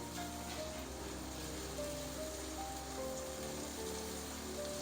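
Garlic and ginger fry with onion in a pan while dhaba-style beef keema is being made. A steady, even sizzle runs throughout, with a faint tonal hum underneath.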